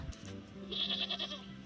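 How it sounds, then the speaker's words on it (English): A sheep in the video game Wytchwood bleats in a wavering, sustained call over a low background hum, heard alone with no speech. "That's probably a sheep."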